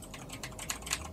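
Computer keyboard keys pressed in a quick, uneven burst of soft clicks, faint and close, during a Dead Space 3 play session.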